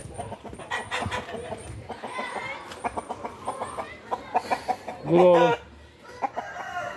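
A Konyalı rooster clucks and calls close by, with a short burst of louder crowing-like vocalizing near the end, while someone speaks briefly to it.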